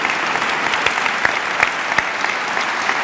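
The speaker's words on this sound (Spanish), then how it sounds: "les pida un fuerte aplauso para ellos, porque son componentes de la banda" A hall audience at a Holy Week proclamation gives loud, sustained applause for members of the band, with a dense, even roar of many hands and a few sharper claps standing out.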